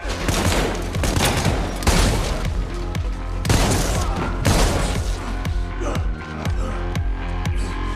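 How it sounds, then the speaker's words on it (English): Gunfire from a John Wick movie scene with a Dragon's Breath shotgun, repeated loud booming blasts at irregular intervals over a dense action-scene soundtrack. "it's the John Wick Dragon's Breath, because that's what he's shooting, and you see the explosion, the fire"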